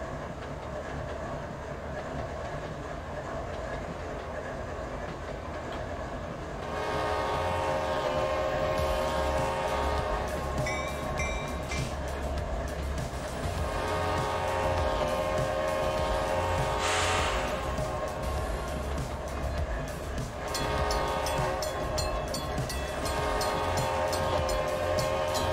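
A CSX 1975 train in the Trainz simulator approaches on the main line heading east, its engine rumble rising as it nears, with horn blasts sounding over the steady rolling noise.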